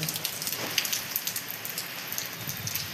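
Light rain patters steadily on a surface, a soft, even hiss of scattered drops with no voices.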